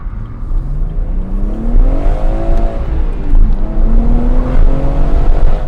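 A BMW M140i accelerates hard, its engine note climbing in rising sweeps that repeat through gear changes, loud and close throughout with no talking.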